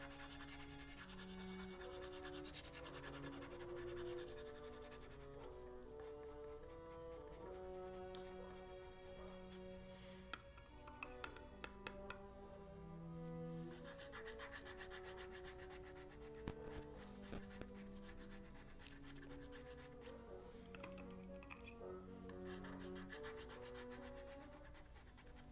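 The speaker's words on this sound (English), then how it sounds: "I am just scraping away. Scraping the life out of this reed." A knife scrapes a bassoon reed with a steady, continuous rasping, heard close up beneath background music playing throughout.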